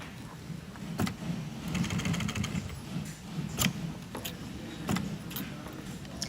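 A sewing machine stitches an AIMS 326 multi-purpose tool pouch with plastic in it, giving a soft running mechanical whir broken by several sharp clicks and knocks, close but quiet.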